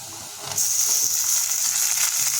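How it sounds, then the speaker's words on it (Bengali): About 100 grams of chopped tomato drops into a kadai of onions that have fried for three minutes. A soft sizzle suddenly flares into a loud, hissing fry that continues steadily up close. "এখন আমরা এই কড়াইয়ের উপরে যোগ করে দেবো প্রায় 100 গ্রাম টমেটো কুচি।"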